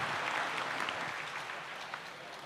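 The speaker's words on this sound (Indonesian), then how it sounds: "kita berikan aplaus" An audience claps steadily throughout at an Islamic lecture for university students given by a preacher, a dense, continuous applause filling the room with no speech over it.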